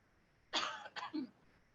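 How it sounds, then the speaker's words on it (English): A single close, rough cough in two quick bursts, brief and distinct against a quiet background. "This cough won't go away."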